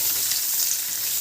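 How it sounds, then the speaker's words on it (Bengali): Spices hiss and sizzle steadily in hot oil while tempering dal, a loud, continuous bright crackle filling the whole moment with no voices. "এই যে ডালে ফোড়ন দেবো"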